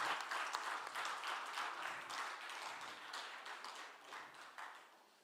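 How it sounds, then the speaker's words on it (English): Audience members clap at a banking and ethics competition finale, a burst of close, crisp applause that gradually thins and fades over about five seconds. "Let's clap for that."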